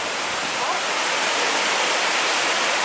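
Cascade Waterfalls near Port Vila, Vanuatu, roar as a steady, loud broadband rush of falling water that fills the whole moment without pause.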